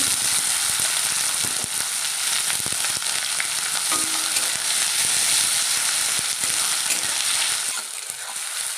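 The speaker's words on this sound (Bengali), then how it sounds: "এবারে দিয়ে দেবো কোচানো পেঁয়াজগুলো" Sliced onions fry steadily in oil with a loud, continuous hiss and crackle, occasional stirring scrapes, easing slightly at the very end.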